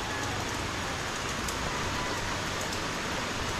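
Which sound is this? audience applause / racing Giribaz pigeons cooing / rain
rain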